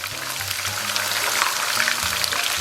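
Scallion and ginger hitting hot oil in a wok, a steady bright sizzle and crackle running throughout at close range, with no talk.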